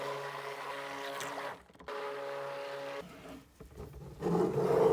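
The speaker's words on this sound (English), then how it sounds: "let's give these a quick buzz with our stick blender" A stick blender mixing cold process soap batter, steady motor whine in short buzzing bursts with brief pauses between, close and moderately loud, no talking.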